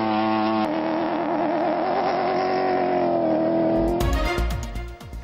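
A rally car at the Silk Way Rally in China holds a loud, steady engine note that warbles slightly, then breaks into harsh revving and crackling bursts near the end.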